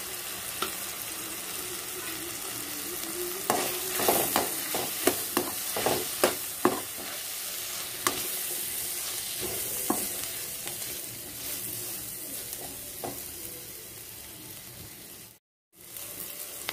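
Spices with turmeric and chili powder frying in oil with onion in a pan, a continuous sizzle broken by a run of sharp spoon-scraping stirs, close and alone.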